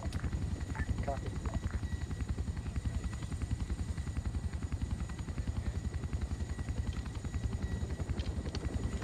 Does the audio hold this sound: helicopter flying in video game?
yes